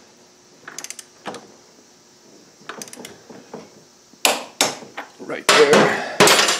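Wrench tightening the rear axle nut on a Kawasaki KLR 650 motorcycle, heard as a few soft metallic clicks and ratcheting taps, then several louder, sharper clanks and knocks near the end, with a brief spoken phrase.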